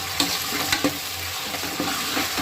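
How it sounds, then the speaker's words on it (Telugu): Ginger garlic paste frying in a hot pan for gongura chicken, a steady loud sizzle with a few brief stirring scrapes, close up and no voices. "ఇప్పుడు అల్లం వెల్లిగడ్డ పేస్ట్ వేసుకోండి"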